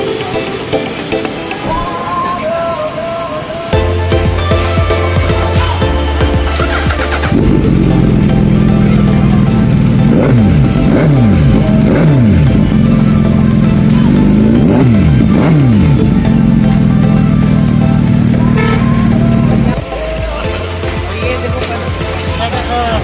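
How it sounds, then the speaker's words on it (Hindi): A Suzuki Hayabusa 1300 with a loud aftermarket M4 exhaust starts and idles, then revs up repeatedly in sharp rising bursts before settling back to a heavy idle. "ये 4 का सलेंसर है जो काफ़ी लाउड है"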